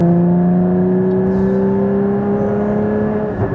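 A 2016 Porsche GT4 sports car engine holds a loud, steady high-revving drone with a slowly rising pitch, sustained and close, with no talking over it.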